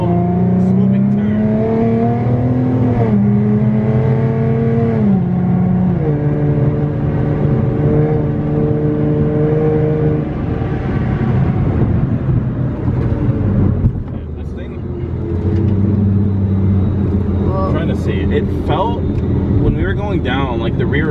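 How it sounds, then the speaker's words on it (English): A supercharged V6 car is driven hard through a swooping turn, its engine note rising and falling steadily for the whole stretch, loud and close, with a person talking over it. "So I'm going to drive a little spirited right here."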